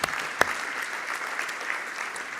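Audience applause at an education-technology summit interview, a fairly even patter of clapping with one sharp louder clap near the start, steady and moderately near throughout.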